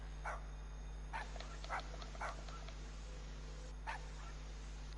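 A dog in the video game GTA 5 Online gives a few short, moderately loud barks and yips in irregular bursts, heard over a steady low electronic hum.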